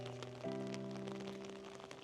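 Steady downpour on a wet New Year's Eve town walk at around 5 Celsius, an even hiss of rain on the ground alongside sustained humming tones from nearby buildings, with no voices.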